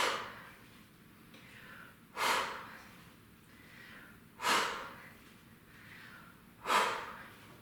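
Three strong, breathy exhalations at a steady interval of roughly two seconds during weighted squats, each rising sharply and fading, with faint rustling and quieter breathing between them.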